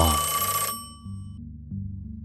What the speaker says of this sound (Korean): 그리고 곧 어머니께 걸려온 전화.